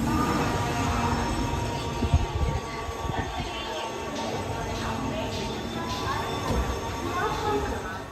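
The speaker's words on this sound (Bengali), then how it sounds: "আমাদের ট্রেনটা এখন সিগন্যালে দাঁড়িয়ে আছে হচ্ছে চন্দ্রগিরি স্টেশনে" Steady rumble and hum fill the inside of a passenger train halted at a signal at Chandragiri station near Tirupati, with faint background voices and occasional small clanks.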